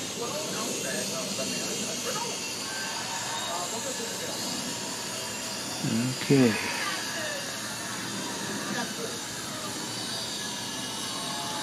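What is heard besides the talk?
drone flying overhead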